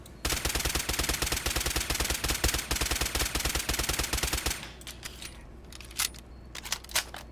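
Rapid sustained machine gun fire in Fallout 4, a dense loud rattle of shots for about four seconds, then stopping, followed by a few scattered clicks and thumps.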